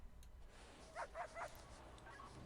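Guard dogs in the Prison Architect video game give three quick barks in a row, then a fainter yip, fairly quiet over a low background rumble.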